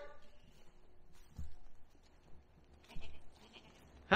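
Goats on a homestead bleat faintly and intermittently across a quiet pen, a few short calls spread out with soft background rustle and a louder cry at the end.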